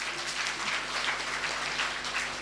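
An audience at a kirtan applauds for the cymbal players, pakhawaj drummer and harmonium player, producing a dense, steady burst of many hands clapping over a low hum, sustained for a few seconds.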